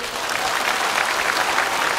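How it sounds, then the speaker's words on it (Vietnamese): A classroom of students at a Buddhist talk in Vietnam claps together in a steady, dense round of applause, close and fairly loud, with no voices over it. "Một tràng pháo tay."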